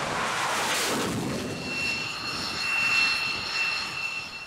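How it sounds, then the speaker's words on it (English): Jet engine of a tailless, blended-wing unmanned combat aerial vehicle built for aircraft carrier operations, a steady loud roar with a high whine running throughout, no voices. "This unmanned combat aerial vehicle is specifically designed for aircraft carrier-based operations."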